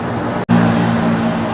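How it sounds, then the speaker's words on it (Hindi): Heavy road traffic on a busy, jammed street in Malaysia: a close, loud car engine hums steadily after a brief dropout, with a low tonal drone running beneath the broad roadway noise. "यहाँ पे बहुत ज़्यादा ट्रैफिक है यार, ट्रैफिक तो पूरा जाम ही जाम है यहाँ पे तो"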